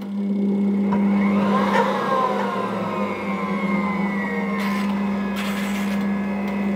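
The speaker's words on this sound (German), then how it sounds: "Im ersten Schritt wird natürlich die Knetmaschine angeschalten." A dough kneading machine runs with a steady mechanical hum and a whining, rising drone, plus a few brief clatters, loud and close.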